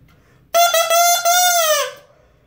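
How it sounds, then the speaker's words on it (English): A bare bassoon double reed blown alone with no instrument attached gives one sustained, buzzy, nasal squawk of about a second and a half, with a steady pitch that sags slightly at the end. It is loud and close, with no talk. "So to create a sound, you make a sound by blowing through this reed."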